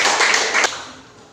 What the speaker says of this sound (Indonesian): Boleh beri tepuk tangan dulu untuk Dwi.